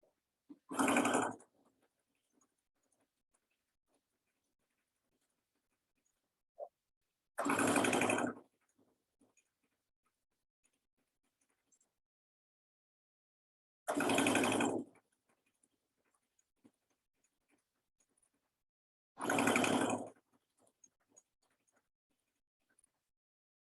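A sewing machine stitches along a side seam in four short, loud bursts spaced several seconds apart, with near silence in between.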